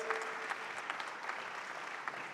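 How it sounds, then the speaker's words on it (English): A small group claps for a couple of seconds, steady and moderately faint, with no voices over it. "Give a big clap for him."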